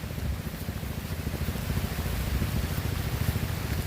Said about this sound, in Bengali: দেখুন কি পরিমাণ বৃষ্টি হইতেছে